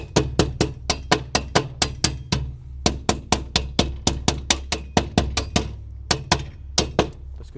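A hammer strikes metal in a fast, steady series of sharp, ringing blows, close and loud, while a gate automation system is installed, with a couple of brief pauses between runs.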